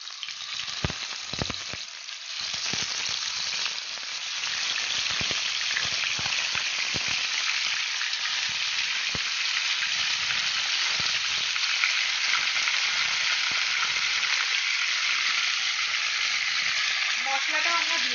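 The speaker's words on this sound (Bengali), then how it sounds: "এবার আমরা চিকেন লেগ পিসগুলো এক এক করে দিয়ে দেবো।" Chicken leg pieces going one by one into hot white oil in a pan, with a few sharp crackles and clinks at first, then a loud, even, sustained sizzle.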